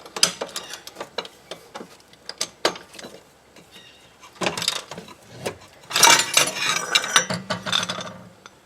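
A pipe wrench spins a loosened part under a rusty Buick LeSabre, making quick metallic ratcheting clicks in uneven bursts, close and fairly loud, with busier scraping toward the end.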